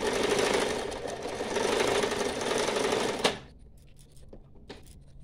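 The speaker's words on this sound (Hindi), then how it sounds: "इस पर भी हम ऐसे मोड़ कर सिलाई लगा देंगे" Sewing machine stitching fabric for a cloth mask, a fast continuous mechanical whir for about three seconds that stops abruptly, followed by a few faint handling clicks.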